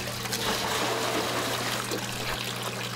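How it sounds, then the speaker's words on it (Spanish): A thin stream of tap water runs while dishes are washed and the water is caught in a container, a steady close trickle and splash with no pauses. "lava sus platos con un chorro flaco de líquido"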